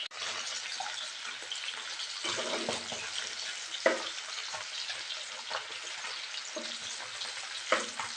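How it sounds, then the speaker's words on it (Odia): Tomato and onion frying in a pan for cabbage curry: a steady, close sizzle and crackle throughout, with occasional scrapes and clinks of stirring breaking through. "ଟମାଟୋ ଟିକେ ସଫ୍ଟ ହେଲା ପର୍ଯ୍ୟନ୍ତ ଆମେ ତାକୁ ଭାଜିବା।"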